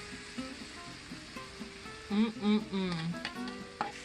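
Eggs fry in a hot pan in a well in the middle of homemade fried rice, giving a steady close sizzle with scraping and stirring noises that swell for a few seconds and then fade, with no talk.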